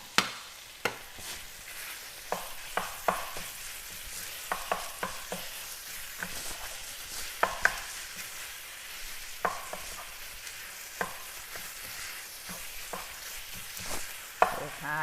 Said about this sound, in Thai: ผัดพริกแกงกับหมูให้เข้ากัน จนหมูเริ่มตึงนะคะ